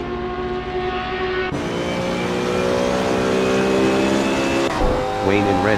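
A BMW Z4 race car engine screams at high revs in a racing video game, holding a steady whine that shifts pitch abruptly twice, with a voice faintly present beneath the engine noise.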